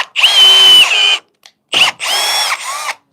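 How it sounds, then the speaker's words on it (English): A handheld power drill set to drill mode whirs in several loud, close bursts, each spinning up with a rising whine and cutting off abruptly, separated by short silences. "So the drill, especially if I have it on drill mode,"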